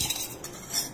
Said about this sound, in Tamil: இந்த சுகரை வந்து இந்த பாத்திரத்துல போட்டு இந்த வாட்டரை இதுல விட்டுண்டு ஃபர்ஸ்ட் அது கரையறதுக்கு கலந்து விட்டுக்கணும்